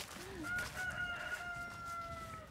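Hens in a pasture give a faint distant rooster-like crow and soft clucks. Low outdoor background noise sits beneath them.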